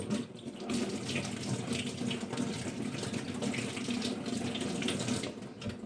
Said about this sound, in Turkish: sünger kısmıyla salatalıklarınızı yıkayın